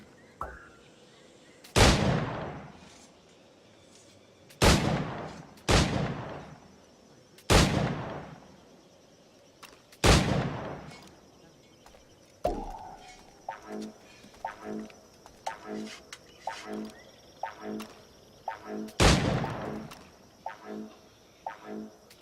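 Gunfire in an Assassin's Creed Black Flag timed target challenge: a series of sharp, loud shots spaced a few seconds apart, each ringing out with a decaying tail, followed by quicker, lighter impacts toward the end.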